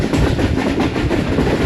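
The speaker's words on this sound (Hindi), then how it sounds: "इस वक्त ट्रेन हमारी पब्बी फॉरेस्ट के बीचों बीच गुजर रही है" A Subak Raftar railcar rolls steadily through a forest, its wheels drumming in a continuous rhythmic clatter over the rails, close and loud with a dense rumble throughout.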